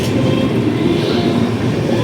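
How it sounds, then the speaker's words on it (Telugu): The Bhubaneswar Superfast Express rumbles loudly and steadily as it pulls out of Tirupati railway station, a continuous close low roar of rolling carriages with faint clatter. "కరెక్ట్గా 10:26 అయితే మన ట్రైన్ స్టార్ట్ అయిపోయింది"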